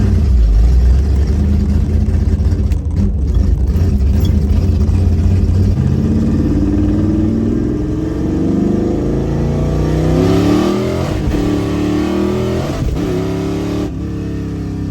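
A 1971 Dodge Demon race car warming up before a track run, its V8 engine loud and close, idling roughly and then revving up and down in several swells.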